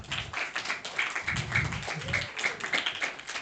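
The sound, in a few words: audience applause for the children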